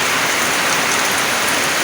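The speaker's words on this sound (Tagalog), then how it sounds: "ang lakas na naman ng ulan dito sa amin guys" Heavy rain pours down steadily, a dense, loud, unbroken hiss of drops hitting surfaces close by, with no voices.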